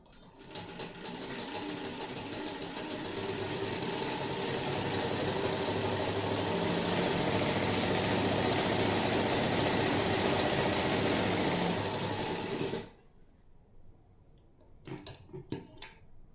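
A sewing machine runs a long, steady, loud whirring stitch on a blouse, then stops abruptly, leaving a few faint clicks and handling taps.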